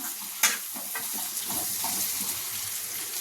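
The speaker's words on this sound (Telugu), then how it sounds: "సొరకాయ ముక్కలు వేసుకొని కలుపుకుందాం" Bottle gourd pieces with turmeric are stirred in a cooking pan, a soft, close scraping and shuffling over a faint sizzle, with one sharper utensil knock near the start.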